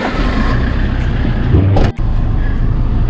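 A travelling van drives along a road in Georgia, giving a loud, steady engine and road rumble from inside the cabin, with one brief dip in the noise partway through.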